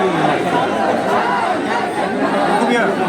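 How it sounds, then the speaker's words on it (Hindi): Dense crowd chatter fills an outdoor student protest at a Hindu university campus, many overlapping voices forming a steady, loud murmur with no single speaker standing out. "धीरे धीरे आप देख रहे हैं कि यहाँ पे भीड़ बढ़ती जा रही है।"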